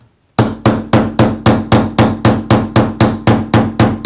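A combination texture hammer strikes a metal piece in about a dozen evenly spaced, ringing blows right after a moment of silence, each hit sharp, close and loud with a brief metallic decay.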